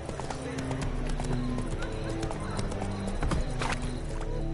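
Hooves of the horse Roach clip-clop in a rapid galloping rhythm in The Witcher 3, steady and close, with a voice speaking over the hoofbeats and game ambience.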